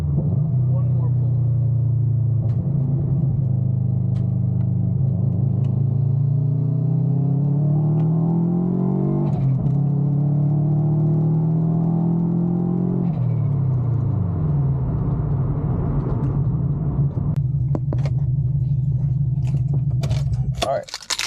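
Subaru WRX engine with a Greddy blow-off valve, heard as a steady, loud rumbling drone that climbs and falls through a long pull. Near the end come brief crackles and a sharp burst, with a voice speaking over it.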